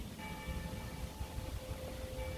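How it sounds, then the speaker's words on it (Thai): A church bell rings in a hillside park above a German town at eleven in the morning, its steady tones carrying from a distance over continuous outdoor background noise. "เสียงะระฆังเรียกคนเข้าโบสถ์นะคะ"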